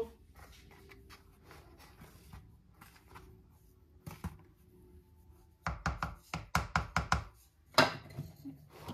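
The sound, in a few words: mixing gram flour batter with a spoon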